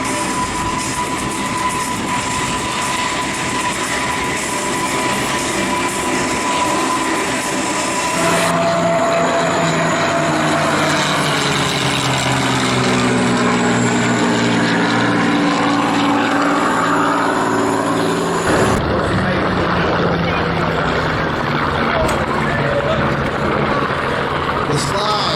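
Aircraft engine roar at the Wings over the Illawarra airshow 2022, a loud steady drone with shifting pitch as it passes, mixed with a commentator talking over a public address.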